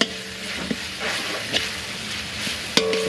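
Chili and garlic sizzle and fry in oil in a wok, a steady crackling hiss with a few sharp stirring clinks and scrapes throughout, close and fairly loud, no voices.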